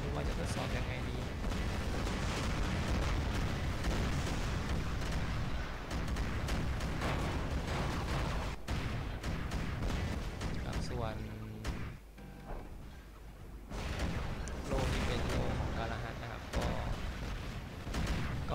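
Rockets from a heavy weapon prototype fire and explode in War Robots, the Thai test server, as a dense, continuous barrage of booming blasts and rumbling impacts that briefly thins out near the middle before resuming at full force.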